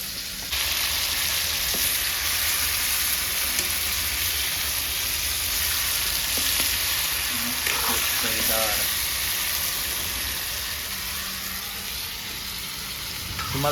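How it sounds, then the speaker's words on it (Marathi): Chicken cooking in a pot on a wood-fired stove in a village, a continuous close sizzle and bubbling frying hiss that runs steadily throughout, with faint voices at times. "चिकन देऊन ठेवलेलं आहे जरा शिजायसाठी"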